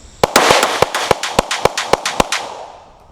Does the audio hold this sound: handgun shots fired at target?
yes